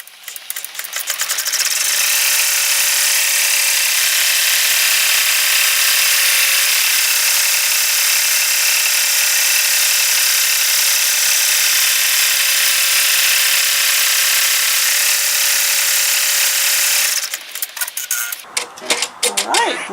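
An embroidery machine stitches around the edge of a vinyl zip bag made in the hoop, its dense mechanical buzz steady and close for about seventeen seconds before stopping, followed by brief handling noises.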